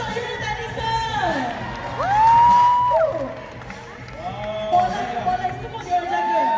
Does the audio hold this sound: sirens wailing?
no